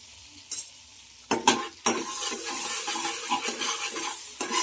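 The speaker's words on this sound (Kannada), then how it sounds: "ಸ್ವಲ್ಪ ಎಣ್ಣೆ ಹಾಕೊಂಡಿನಿ ಆಮೇಲೆ ಹಾಗೆ ಒಂದು ಬಟರ್ ಕ್ಯೂಬ್ ಹಾಕೊಳತ್ತೀನಿ" Oil with a cube of butter in a hot frying pan, crackling and sizzling up close after a few sharp metal clanks and stirring scrapes, then settling into a steady hiss.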